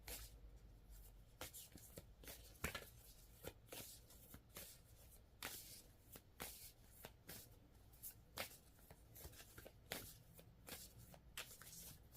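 A deck of oracle cards is shuffled nearby in quiet, repeated riffles and flicks, with soft handling noises between bursts and no talking.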